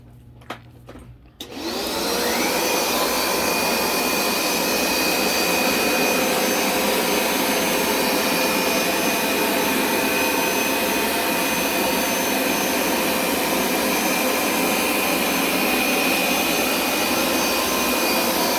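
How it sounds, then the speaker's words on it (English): A Hoover SmartWash pet carpet cleaner starts up after a brief click and then runs continuously over carpet with a loud, steady motor whine and airflow hiss, close by and with no talking. "Now I'm going to go over it this way with the SmartWash"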